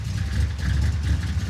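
A junkyard Chevy Tri-Five engine struggles under a rev attempt with little fuel, producing a close, rough, pulsing mid-low rumble that swells and dips unevenly without fully taking off.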